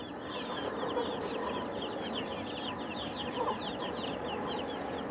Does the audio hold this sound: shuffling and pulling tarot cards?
no